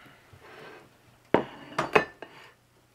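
Plating pancake, egg and sausage breakfast sandwiches: a few close, sharp clinks and clatters of utensils against plates and pans, three or four distinct knocks in quick succession, otherwise quiet.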